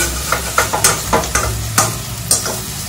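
Spices for rajma fry in hot oil with a steady sizzle while a spoon scrapes and stirs the pan in repeated close strokes, loud and with no voices.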